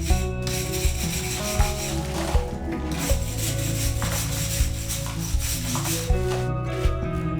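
A wire brush scrubs hard against a stone wall during a tiny stone house renovation, a continuous loud rasping scrape with rhythmic strokes roughly every second, close up, with no talking.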